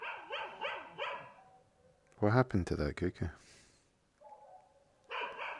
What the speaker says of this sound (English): Who's that dog? Is there a dog in the game?